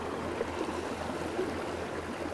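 Spring water flows steadily at a collection spot in Mexico, a soft, continuous rushing stream at moderate distance with no voices.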